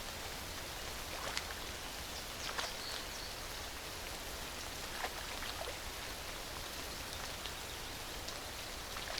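Steady rain falls across a wet landscape, a dense even hiss with scattered individual drop taps, faint and distant-sounding, with no voices.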